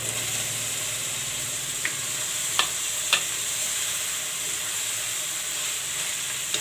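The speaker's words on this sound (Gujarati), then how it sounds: "હવે આપણે આ બટેટા નાખી દઈશું।" Boiled potatoes stirred into a hot pan of frying fenugreek greens, a bright steady sizzle with a few distinct knocks and scrapes of the spoon against the pan.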